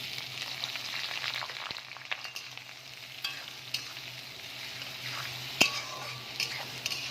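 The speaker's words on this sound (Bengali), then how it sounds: "এবার আমি এতে পেঁয়াজ কুচিটা দিয়ে দেবো।" Chopped onion frying and being stirred in a pan for chicken kosha: a steady close sizzle with intermittent scraping and clinks of the spatula against the pan.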